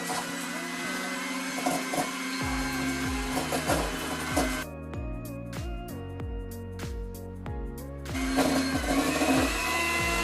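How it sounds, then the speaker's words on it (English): An electric hand mixer beats egg whites in a saucepan on medium speed, a steady motor whine with shifting pitch steps and tones that rise and fall, running loud and continuous throughout. "We're going to beat it on medium speed for 2 minutes."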